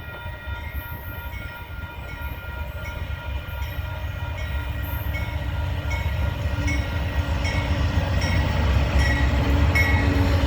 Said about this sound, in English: a westbound Union Pacific intermodal.